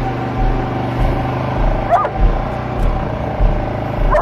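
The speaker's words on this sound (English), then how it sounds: "I don't know what he's barking at." A dog barks outdoors in a few short bursts with whimpering yips, heard close over a steady low rumble from a vehicle.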